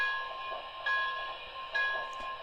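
An MTH Great Northern S-2 model locomotive bell with PS3 sound rings repeatedly with metallic clangs about once a second, fairly faint against a soft electronic hum.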